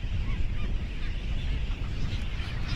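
A masked booby gives loud, harsh honking calls while being caught by hand at sea, a continuous raucous stream of nasal squawks close by, with no talk over it.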